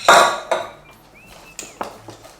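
A whisk knocks against a bowl of Lindt chocolate mousse mixture, giving a handful of sharp, close clinks spaced irregularly with quiet gaps between them.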